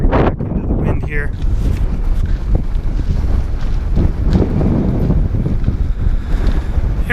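Strong wind buffets the microphone at a desert mountain peak in California, a loud, continuous low roar and rumble throughout with gusty swells.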